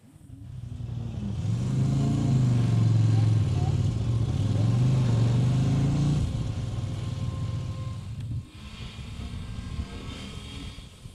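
A CFMOTO motorcycle ridden on a trail, its engine note building and holding a steady loud drone before easing off, with a rider's voice over it.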